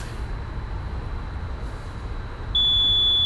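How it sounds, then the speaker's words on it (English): A refrigeration unit's warning buzzer on a reefer trailer starts up over a steady low engine rumble, a single sustained high tone that comes on abruptly partway through and holds loud to the end. "There's the warning buzzer."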